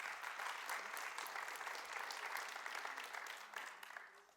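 A church congregation claps together in sustained, dense applause that stays fairly even for several seconds, then slowly tapers off at the end.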